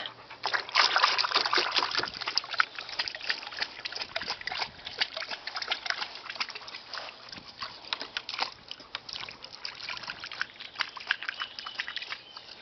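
A dog splashes and paddles in water, with irregular sloshing and dripping close by, loudest at the start and continuing unevenly for about twelve seconds.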